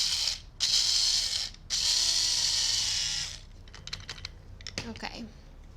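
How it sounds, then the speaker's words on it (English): Electric coffee or spice grinder whirring through pumpkin seeds with salt, two loud high-pitched bursts with a short gap between them, then rattling and clatter as it stops. "So I'm gonna add my pumpkin seeds in my coffee or spice grinder"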